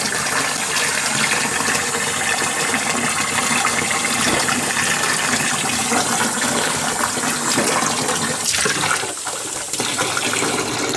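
Water runs steadily from a tap into a laundry sink, a continuous splashing rush that briefly shifts in flow near the end.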